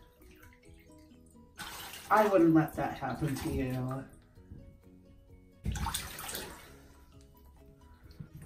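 Bath water splashing and running while cats are bathed, two loud bursts of sloshing water separated by a quiet pause, with a person talking over it.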